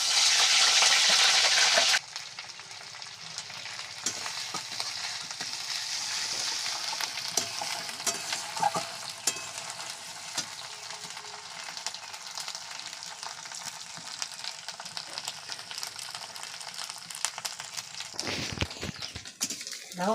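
Onion paste frying in oil for a Bengali fish curry, starting with a loud hiss that drops to a steadier, softer sizzle, broken by scattered clicks and scrapes of stirring, with brief faint voices in the background.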